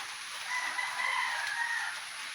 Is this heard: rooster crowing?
yes